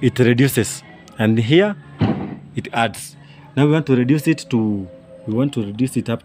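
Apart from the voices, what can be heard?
No everyday noises stand out.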